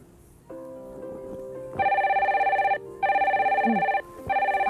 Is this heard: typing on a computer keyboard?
no